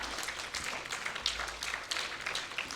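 Sustained audience applause at the Axis 19th Edition event, honouring the alumni and coordinator teams: a dense, steady patter of many hands clapping throughout, fairly close and even in loudness.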